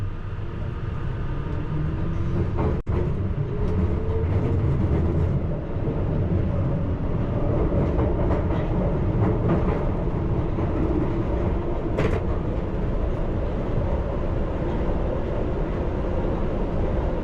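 London Underground Piccadilly Line train running eastbound toward the Oakwood depot, a continuous rumbling roar of wheels and motors heard from inside the cab, with one sharp click partway through.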